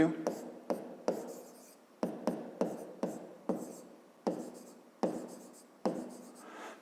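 Pen or pencil strokes on paper, close and clear, as lengths measured with a ruler are written down for a fifth-grade maths exercise; short, sharp scratches come in quick bursts with brief pauses between them.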